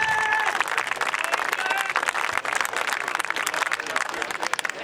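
Golf gallery applause after an approach shot to a small green guarded by a huge bunker, a sustained ripple of distant crowd clapping and cheering that rises and fades under a commentator's voice.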